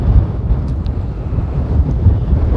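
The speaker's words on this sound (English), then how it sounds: "We have some wind here" Strong wind roars steadily across the microphone near an erupting volcano in Iceland, a loud, constant low rumble of buffeting gusts with no speech.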